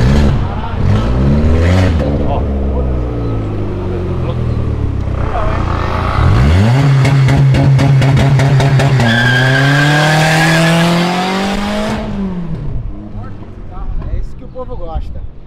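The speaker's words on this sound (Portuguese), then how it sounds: "Não pode acelerar na rua." A car revving hard and accelerating on a city avenue in São Paulo, engine pitch climbing through gears with tire squeal and a long sustained roar, loud and close, with people talking over it.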